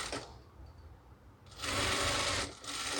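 A sewing machine stitching a saree, first idling quietly, then breaking into a loud, fast, continuous run of close stitching that pauses briefly and starts up again.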